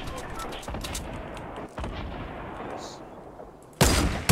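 Gunfire in the Fortnite video game, a dense stretch of shots under game noise followed by a sharp loud burst near the end.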